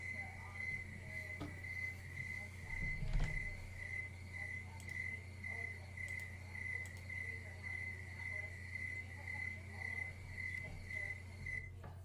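Steady cricket chirping played as a device sound setting, a continuous high pulsing trill over a low constant hum, lasting throughout at moderate level with no talk.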